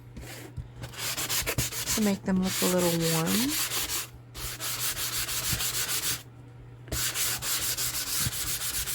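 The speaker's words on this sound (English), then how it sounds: "I've been just kind of sanding some of it off" Steady, continuous sanding of wood plank flooring on a cardboard dollhouse, a rough scratchy rubbing with brief pauses, close by; a short tonal whine cuts in partway and a voice speaks briefly.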